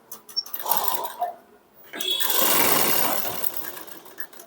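A sewing machine stitches fabric along a shoulder seam, with short bursts of needle clatter early on, a brief pause, then a longer, louder continuous run of stitching close to the microphone that slows toward the end.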